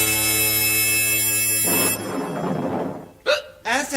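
A radio comedy sound effect blends a steady pitched tone with a rumbling thunder roll, then two loud close hiccups cut in near the end.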